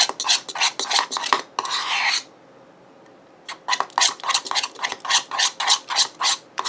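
Slime mixture being stirred with a contact lens solution activator, giving close, rhythmic wet rasping and scraping strokes, with a brief pause midway before the stirring resumes.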